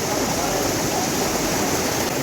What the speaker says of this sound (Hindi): तो देखो कितनी पानी आ रहा है।